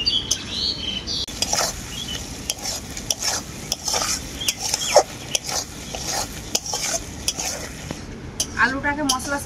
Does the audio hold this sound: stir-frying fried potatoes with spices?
yes